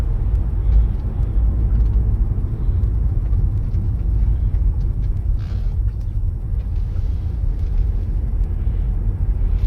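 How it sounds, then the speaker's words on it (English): Another car driving past a moving 40kWh Nissan Leaf on Orkney, heard as a steady low road rumble inside the cabin with a faint swell as the vehicle goes by. "Another car coming."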